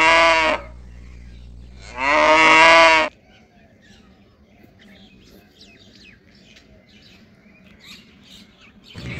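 A cow lets out two long, loud moos close by, the second one fuller, followed by quiet outdoor ambience with faint scattered sounds.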